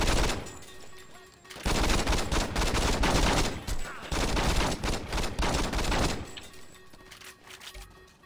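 Bursts of rapid gunfire in the video game Saints Row 2, loud and dense, with two sustained volleys separated by a brief lull, over a constant background hum.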